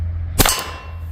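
A less-lethal Kinetics round from an airgun strikes a steel target, a single sharp metallic clang ringing briefly over a low steady hum.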